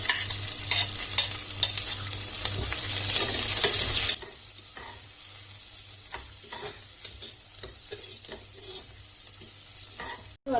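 Onions and curry leaves fry in oil inside a pressure cooker for mushroom biryani, with a bright, dense sizzle that drops sharply in intensity partway through, while scattered stirring scrapes and clicks continue.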